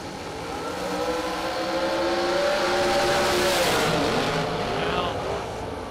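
Drag racing at a dragstrip, the TNT dragster from Pueblo, Colorado racing Donnie Burleson's new car: a loud sustained engine roar with rising and falling pitch, building and fading over several seconds, under an announcer's voice.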